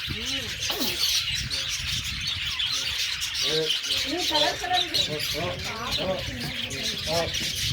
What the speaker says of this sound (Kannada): ಪಕ್ಷಿ ನೋಡಿ ಚಂದದಾಗ ಎಲ್ಲ ಒಂದೇ ಪಕ್ಷಿ